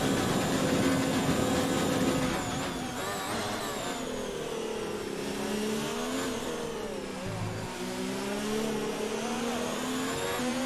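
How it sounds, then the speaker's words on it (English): A Ferrari Formula 1 engine in the video game F1 2019, Mexico race, whines at high revs, over-revving, its pitch rising and falling as it strains and shifts, continuous and fairly close. "You heard how much I over-revved the engine."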